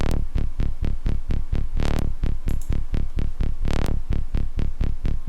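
A buzzy synth bass pulses in a fast, even rhythm of repeated low notes, with brief noisy swells between some beats, loud and upfront.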